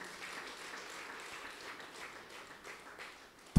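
A church congregation claps for visiting guests, a steady moderate patter of many hands filling the hall and holding evenly throughout.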